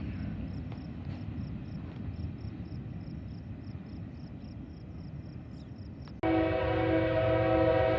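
An eastbound freight train of empty well cars rolls through Deshler toward North Baltimore, a steady rumbling roar with rhythmic wheel clatter, then a loud sustained horn blast near the end.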